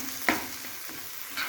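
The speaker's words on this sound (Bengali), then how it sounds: "আর একটু আমি এইভাবে কিন্তু নেড়ে চেড়ে নিব" Egg and tomato stirred while frying in a pan: a faint, steady sizzle with two or three brief scraping strokes of a spatula.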